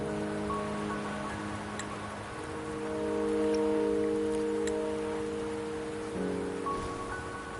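Steady rain in the video game Wuthering Waves patters in a soft, even hiss, with a gentle music bed of sustained tones underneath and occasional faint ticks.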